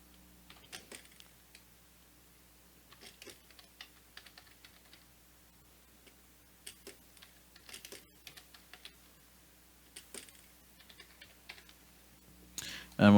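Soft bursts of computer keyboard typing, quick clusters of key clicks separated by short pauses, close and quiet in a still room.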